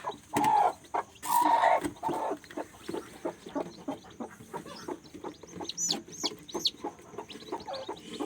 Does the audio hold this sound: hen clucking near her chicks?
yes